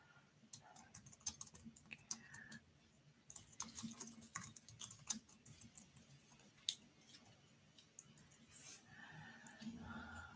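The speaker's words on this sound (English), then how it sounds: "I'm just typing those details in the chat." Fast, uneven clatter of keys being typed on a computer keyboard during a live online collage session, near and fairly quiet, with no speech over it.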